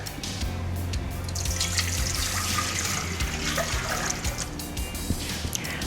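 Water pours steadily into a container, a continuous splashing rush with faint clinks and drips, and no talking.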